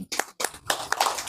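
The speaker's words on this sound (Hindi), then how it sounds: "ताली बजाइए" A lecture audience claps in short irregular bursts, several pulses separated by brief gaps, fairly close and moderately loud with no talking over it.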